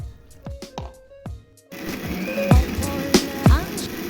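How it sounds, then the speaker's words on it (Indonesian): An electric blender grinds chili peppers with a little water, whirring loudly and steadily after a few short separate pulses, with sharp knocks as the contents hit the jar. "Blender cabai sampai benar-benar halus ya teman-teman."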